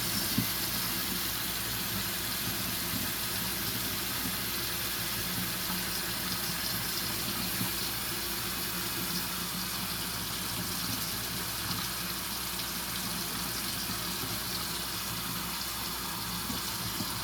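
Tap water runs steadily into a container to warm it for proofing yeast in pizza crust dough, a continuous even rush that stays constant throughout with no talking.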